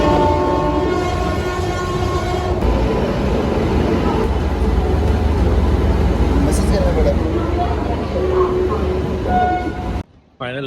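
A loud, steady rumble of a train arriving at a railway station with a sustained horn-like tone, near and continuous, cutting off abruptly at the end.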